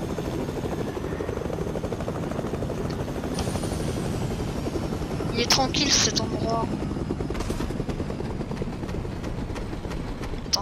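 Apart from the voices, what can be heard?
helicopter flying in Fortnite video game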